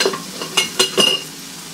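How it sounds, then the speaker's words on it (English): Onions and venison cooking in a pan for Irish shepherd's pie, with a soft sizzle under a few stirring scrapes spaced across a short stretch. No one speaks. "So you will just get these onions started slightly. And then go ahead and add your meat."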